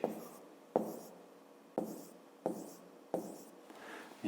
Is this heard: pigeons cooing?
no